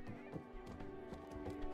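A brief horse whinny over hoof clops in the video game It Takes Two, with a synthetic, game-like quality, short and fairly faint.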